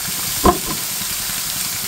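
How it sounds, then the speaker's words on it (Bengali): Potatoes lightly frying in a pan while cooking a mixed vegetable dish with pangas fish head: a steady close sizzle throughout, with one brief utensil clink partway through and no talking. "আলুটা হালকা ভাজা হয়ে গেছে"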